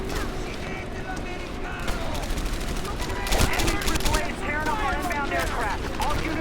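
Rapid bursts of gunfire in the video game Medal of Honor: Airborne crackle amid dense battle noise, with a heavier blast in the middle and a voice talking underneath.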